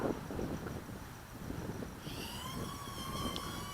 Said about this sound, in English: Getting a little bit more wind now.